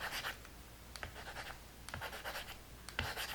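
Stylus rubbing across a Quirklogic Papyr e-ink tablet screen to erase, a soft continuous scratchy scrubbing in short strokes with a few light taps, close and quiet, no talking.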